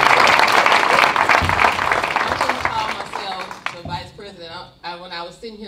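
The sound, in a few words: applause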